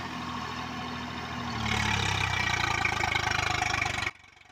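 A Swaraj tractor engine works in a field, running at a steady low idle before revving up into a loud, sustained roar that holds for a couple of seconds and then cuts off abruptly.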